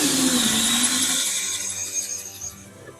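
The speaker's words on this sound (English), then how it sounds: "My drill's bottoming out, so I need to break that piece out first of all." A power drill whines loudly as it bores into the floor of a bus being converted to a camper, its pitch dropping and the grinding tapering off toward the end.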